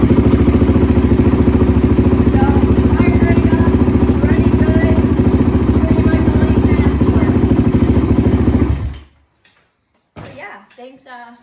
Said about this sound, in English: Okay, fire it up again.